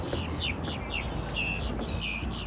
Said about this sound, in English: Those are those crazy birds.